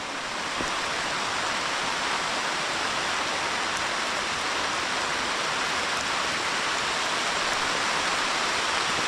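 Steady rushing irrigation water overflowing onto a sweet potato field, a continuous broad hiss at constant level with no pauses or voices.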